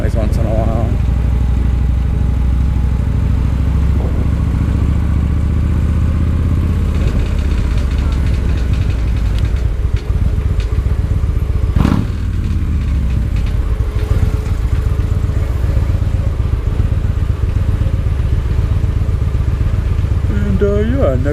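Motorcycle running with a steady loud engine drone throughout, a brief clattering rattle breaking through near the middle, with no talk over it.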